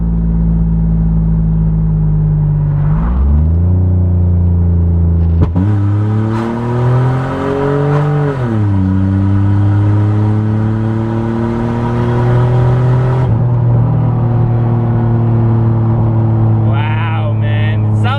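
A minivan fitted with a GTP-style exhaust revs hard through a first-gear pull, its engine note climbing in steady sweeps, briefly dipping at a shift, then holding a loud, droning tone close to the microphone.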